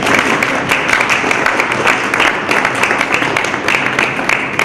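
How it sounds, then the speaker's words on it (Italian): An audience at a fiftieth-anniversary celebration breaks into steady, dense applause, many hands clapping at once, loud and sustained throughout with no speech over it. "applauso, grazie."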